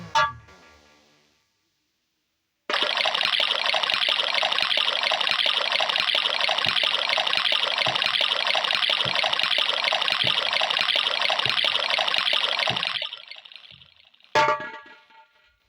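Water is poured out for drinking in a single steady, close stream lasting about ten seconds, with a brief clatter before it begins and another after it tapers off.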